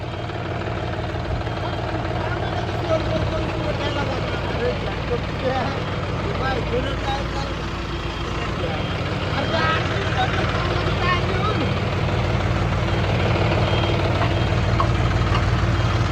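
A tractor engine idles nearby with a steady low rumble before being used to tow a stuck vehicle, voices talking over it throughout.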